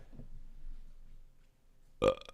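A single short, loud burp erupts near the end after a stretch of low room murmur, close to the microphone.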